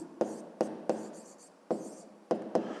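Pen or chalk writing by hand during a fifth-grade maths exercise, with several short, crisp strokes that each start sharply and fade, separated by brief pauses, and no talking.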